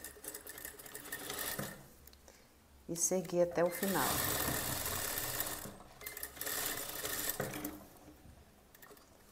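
A sewing machine stitches a zipper in a garment-making session, its rapid mechanical chatter running in several bursts, close and fairly loud, while someone speaks Portuguese between and over the stitching.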